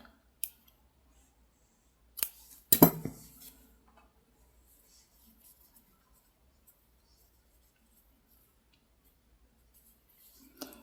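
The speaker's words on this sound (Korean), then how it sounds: "실 잘라주세요" Scissors snip through yarn thread during crochet work, giving a couple of crisp close cutting clicks a few seconds in amid an otherwise quiet room, with a faint soft click near the end.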